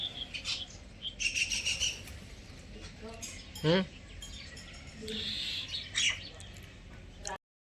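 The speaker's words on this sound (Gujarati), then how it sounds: "આપણો રોટલો નાખ્યો તો ચકલો તે તો ખાસી બધી કાબેરો આવી ગઈ" Mynas and sparrows call and chirp around a piece of millet flatbread thrown out for them, with several bird calls mixed over a person talking nearby.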